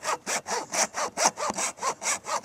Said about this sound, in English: The other saw didn't work, so we are going to be using a hacksaw.